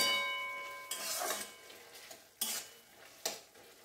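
Green chillies dropped into a frying pan, a soft sizzle followed by three sharp metal scrapes and clanks of a spoon stirring, close and quiet between strokes.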